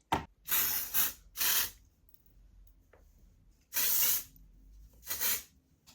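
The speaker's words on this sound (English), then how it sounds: "So I will use the texturizing mist first." Texturizing hair mist sprays in four or five short, close hissing bursts, each lasting about half a second, separated by brief quiet pauses.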